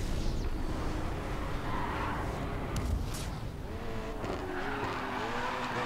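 BMW race car in the racing game GRID 2 skidding through a curve, a steady roaring engine with tires squealing in rising and falling tones across the turn, loud and continuous.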